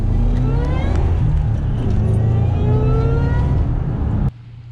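V8 Ford Mustang S197 accelerating hard up a highway on-ramp, a loud, steady engine roar with rising tones heard from inside the car, cutting off abruptly near the end.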